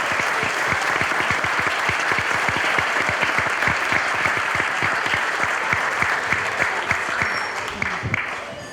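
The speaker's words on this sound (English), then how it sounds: "So another round of applause for our teachers and our students." An audience applauds teachers and students at a board of education meeting, with steady, dense clapping filling the room for about nine seconds before it starts to taper off at the end.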